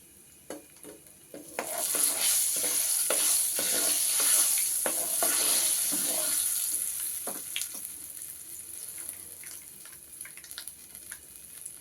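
Chana dal and urad dal frying in oil for a mango pickle tempering crackle and sizzle up loudly after a quiet start, with repeated stirring scrapes, then ease off toward the end.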